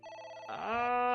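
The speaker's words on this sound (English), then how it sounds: "It's ringing again." A telephone rings in AI: The Somnium Files, a steady tonal ring with bright stacked harmonics that swells louder midway and keeps going, heard on its own without any talking.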